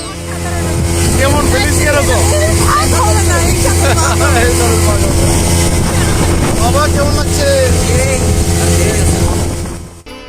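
Loud, steady drone of a speedboat engine with wind rushing past on the crossing to Maheshkhali Island, Cox's Bazar, continuous throughout, and voices talking beneath the motor noise.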